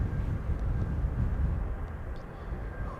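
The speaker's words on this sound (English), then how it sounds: "This is the A321 to Lisbon. KLM flight 1583." KLM Airbus A321 jet departing Amsterdam Schiphol for Lisbon on a breezy day, a broad rumbling engine roar that stays loud and constant, with slight wind buffeting and no talking.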